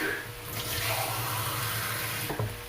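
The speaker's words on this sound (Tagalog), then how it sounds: "Bigyan natin ng konting tubig." Water splashes and trickles steadily into a cooking pot, a soft continuous pour with a faint clink near the end.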